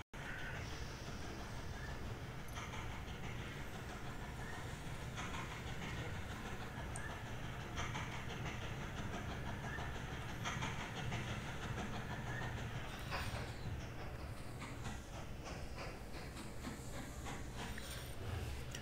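A train runs in the railway-building game Mashinky. It is a continuous, steady rumble with hissing and faint clicking over nearly twenty seconds, carrying on at a constant level with no talk.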